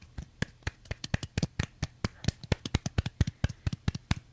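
Scattered handclaps from a small audience, a few people clapping unevenly and fairly close, about twenty sharp claps over four seconds with no talk.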